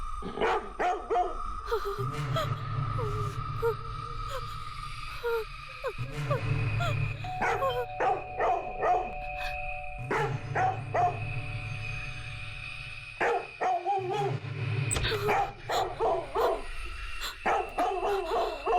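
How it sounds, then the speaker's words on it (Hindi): A dog barks repeatedly in sharp bursts, mixed with yips and whimpers, close by over a steady background hum. "शुरू हो गया भौंकना"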